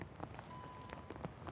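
Steady rain hissing down outdoors at the National Botanic Gardens in Dublin, a dense, even patter with scattered closer drops tapping on surfaces, no voices.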